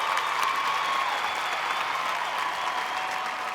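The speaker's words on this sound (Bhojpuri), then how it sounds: "जोरदार तालियां" An audience at the IBF Bhojpuri award show applauds a singer after his live performance, with a dense, steady wash of clapping and light cheering at an even level.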